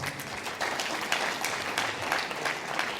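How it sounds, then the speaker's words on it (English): An audience at an academic lecture on journalism gives a round of applause, steady and fairly soft, with many hands clapping in a continuous even patter. "A round of applause."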